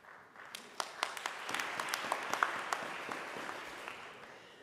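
Audience applause at a university student recognition ceremony, honoring the nominees; a room of steady hand clapping with scattered sharper claps, building and then fading over several seconds.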